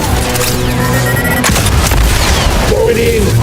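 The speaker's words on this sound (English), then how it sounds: "Firing salvo." Rapid blaster salvo fired in the video game Star Wars Jedi: Survivor, a loud cluster of booming energy shots with a sharp burst near the middle, layered over steady game background noise.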